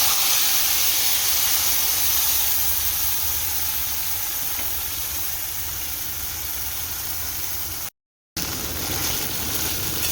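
Whole masala goes into a hot pan while hilsa fish is cooked, producing a steady steamy hiss and sizzle that eases slightly midway and drops out briefly near the end.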